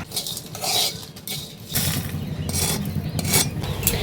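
Salt, whole cumin, three dried chillies and peppercorns dry-roasting in an empty kadai, with steady scraping and rustling of spices being stirred against the metal pan, close and continuous.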